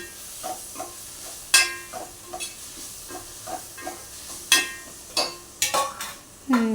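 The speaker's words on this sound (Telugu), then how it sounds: "తగినంత మసాలా బాగా కలుపుకోవాలి" A spoon stirs masala in a hot pan for a pond-fish curry, scraping in a steady rhythm with sharper clanks against the pan and a light sizzle underneath, close and fairly loud, with no voices.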